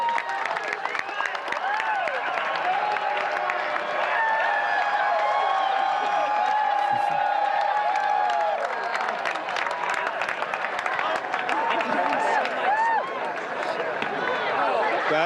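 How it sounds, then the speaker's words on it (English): A large outdoor crowd in Oregon roars with sustained cheering, whoops and applause as the total solar eclipse passes totality, a loud dense wall of voices and clapping lasting throughout. "this crowd just erupted"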